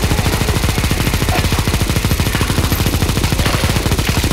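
Sustained rapid automatic gunfire in CS2 Zombie Escape as players shoot at zombies, a dense, steady stream of loud, closely spaced shots running throughout without pause.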